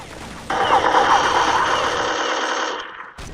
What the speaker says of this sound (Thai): บอกเลยว่ายิงอัตโนมัติ เพราะว่ามันล็อกเป้าอัตโนมัติ